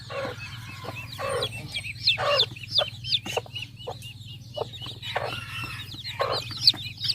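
A flock of chickens, including Rhode Island hens, clucks repeatedly at close range in an uneven chorus of calls over a steady low hum.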